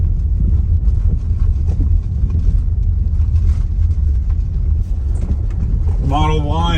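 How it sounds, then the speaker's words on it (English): An all-wheel-drive Tesla Model Y climbs a steep dirt and gravel mountain road with a steady, loud rumble of tires and wind. Another vehicle sound or a tone comes in near the end. "Model Y and all-wheel drive is no issues on steep dirt gravel roads here"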